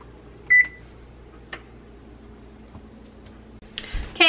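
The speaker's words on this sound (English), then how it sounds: "my timer beeped" An oven timer gives a single short beep while sourdough bread bakes at 400 degrees, followed by scattered clicks and handling noises in a quiet kitchen.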